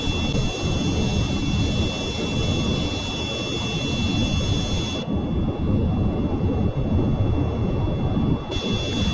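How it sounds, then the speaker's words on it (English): Jet engines of the K-14 Griffin plane with Panther afterburner engines in Kerbal Space Program roar continuously and loudly, a steady dense broadband rumble with a slight change in tone partway through. "So it has the new Panther afterburner engines on it."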